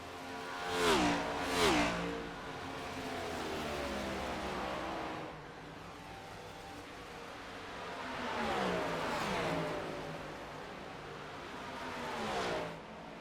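Race cars roll down pit lane at Texas, engines loud and close, with two sharp passing surges early, a steady drone through the middle and further rising revs and whooshes as more cars come by.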